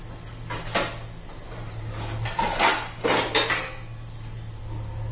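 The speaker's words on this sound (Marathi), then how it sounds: "त्याच्यावरती झाकण ठेवू." A metal lid is set onto a pan of besan chilla with a few close clanks and clatters over a steady background hum.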